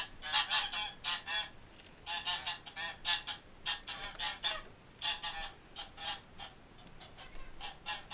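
Geese honk close by in rapid, clustered bursts while being herded inside at night, many calls overlapping, continuing steadily with short gaps and no talking.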